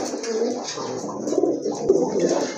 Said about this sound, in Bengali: বিগ সাইজের এক জোড়া ইন্ডিয়ান বোম্বাই কবুতর